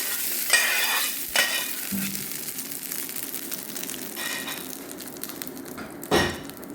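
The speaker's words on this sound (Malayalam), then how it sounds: "നമ്മളിതിലേക്ക് നമ്മുടെ വറവ് ഒഴിച്ചു കൊടുക്കുകയാണ്" Hot tempering poured into kara chutney, a continuous close sizzle and hiss with a few sharper spoon clinks and stirring bursts.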